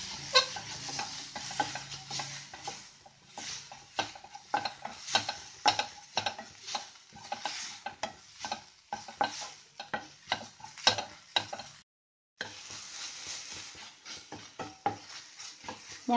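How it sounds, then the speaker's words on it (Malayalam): Cauliflower masala with turmeric powder being sautéed in a pan, a close, steady run of scraping stirs and light sizzling with clinks of a spoon against the metal, briefly cutting out near the end. "മഞ്ഞൾ പൊടി ഇനി നമുക്ക് നന്നായിട്ട് കുറച്ച് നേരം വഴറ്റാം"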